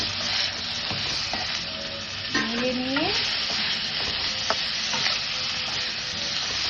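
Pumpkin and eggplant pieces sizzle steadily in a pan, stirred with a few scraping strokes by a utensil, the frying hiss constant and close with no talk.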